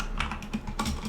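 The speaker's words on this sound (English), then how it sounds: "So when it comes to recording and streaming, this keyboard is really loud." Typing on a loud mechanical computer keyboard, with crisp, clacky keystrokes in quick irregular bursts, heard up close and alone.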